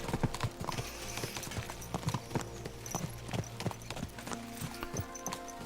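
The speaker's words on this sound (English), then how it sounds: "Let's really spur these horses on, eh?" Horses clip-clopping at a brisk trot in Kingdom Come: Deliverance II, a dense steady rhythm of hoofbeats on the ground over a low ambient bed.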